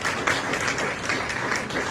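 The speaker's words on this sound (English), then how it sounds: "just give her staff and Steve and everybody a round of applause" An audience at a literary garden anniversary celebration claps in a dense, steady round of applause, lasting briefly and filling the space evenly.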